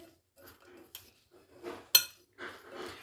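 Utensils scraping and clinking against a bowl while a vegetable protein salad is tossed by hand, coming in short separate bursts with one sharp bright clink near the middle and quiet pauses between them.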